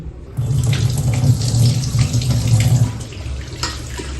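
Lentils soaked for four hours are washed under running water from a tap, a loud, steady gushing stream splashing into a vessel, with no one talking.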